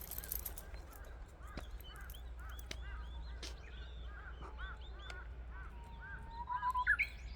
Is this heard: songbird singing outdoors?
yes